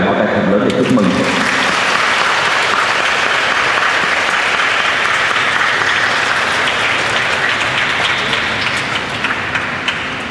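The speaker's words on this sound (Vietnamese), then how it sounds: "Cộng đoàn chúng ta tất cả vỗ tràng pháo tay thật lớn để chúc mừng" A church congregation at a Vietnamese Catholic feast-day Mass for Mary, Mother of God, bursts into loud, sustained applause, a dense wash of clapping that fills the whole stretch; a voice is briefly heard at the start.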